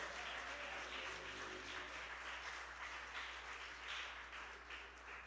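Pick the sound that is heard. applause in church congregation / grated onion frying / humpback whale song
applause in church congregation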